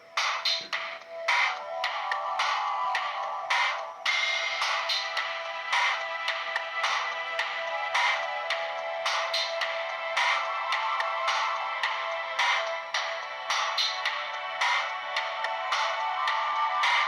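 Polyphonic ringtones from a 2004 Siemens C65 mobile phone, bright synthesized melodies with quick, punchy note patterns playing loudly and continuously from a small speaker, with brief switches between tunes and no talking.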